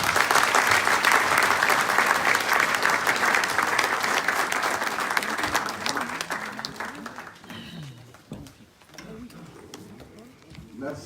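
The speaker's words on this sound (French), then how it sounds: "que je vous prie d'applaudir à nouveau, mesdames et messieurs" Loud applause from the audience at a Guinea–Europe economic forum in Brussels, sustained dense clapping for several seconds that gradually thins and fades, with a voice speaking over its tail end.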